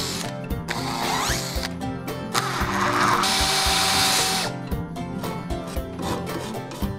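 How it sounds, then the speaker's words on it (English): Repeated rasping strokes of a file scraping burrs off PVC pipe, rhythmic and close, with a longer continuous scrape in the middle. "File off any burrs"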